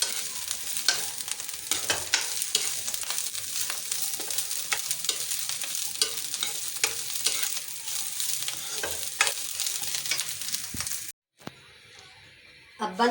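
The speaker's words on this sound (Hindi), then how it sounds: "इस वजह से ये सब्ज़ी को हम सोते कर लेते हैं तेज़ आंच पे जल्दी जल्दी।" Cabbage being stir-fried quickly over a high flame for a Chinese-style dish, a steady loud sizzle with scraping stirs for about eleven seconds, then a brief gap before quieter pan noise resumes.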